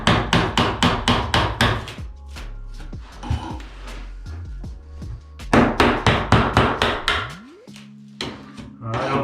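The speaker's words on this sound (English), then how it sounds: "I'm just gonna hit it with the hammer there" A hammer taps repeatedly against a wallpaper-damaged wall during repair prep, in quick sharp bursts of knocks, then scraping and rubbing between strikes before another rapid run of blows, all close with no talk.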